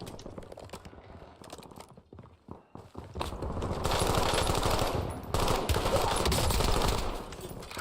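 Gunfire in the video game Warzone, scattered shots and clicks at first, then a long sustained burst of rapid automatic fire, loud and close, briefly interrupted and resuming.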